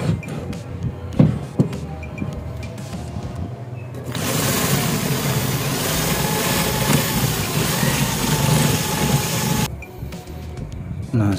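A drill bit is ground in a drill bit sharpener, giving a steady, loud motor whir with a grinding edge for several seconds. Quieter handling sounds come before and after it.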